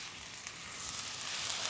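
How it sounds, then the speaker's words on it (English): Mushrooms sizzle in hot oil in a frying pan, a steady, faint hiss of frying that holds on without a break. "You can hear them sizzling straight away."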